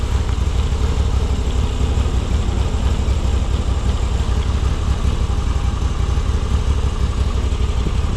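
A Moto Guzzi V85TT motorcycle idles in neutral with a steady, low, even engine rumble and light mechanical clatter, close and constant throughout with no speech.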